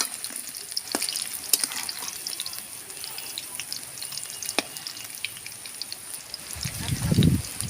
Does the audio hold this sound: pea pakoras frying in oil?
yes